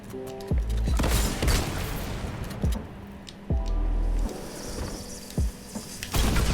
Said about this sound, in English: Oh, he charged his shotgun.